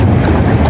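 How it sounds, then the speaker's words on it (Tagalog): Loud, roaring wind from a squall at sea buffets the microphone in a brief, continuous blast, with a low rumble like rough water underneath. "Grabe lakas ng hangin."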